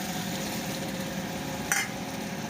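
Water poured into a pan of fried spices and fully boiled potatoes for a light fish curry, a steady close sizzle with a brief bright splash-hiss near the end as the liquid hits the hot oil.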